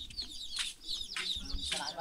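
Young chicks peeping in a Filipino yard, a stream of high, thin chirps repeating in quick bursts, close and fairly loud, with a low rumble of background noise underneath.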